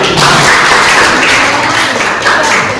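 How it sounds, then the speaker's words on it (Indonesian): Students in a sociology class clapping their hands together, a dense, loud burst of applause-like claps filling the room for a few seconds, with no clear speech over it. "Iya, tuh, tepuk tangan."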